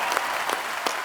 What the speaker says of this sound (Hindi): आपकी जोरदार तालियों के बीच तशरीफ ला रहे हैं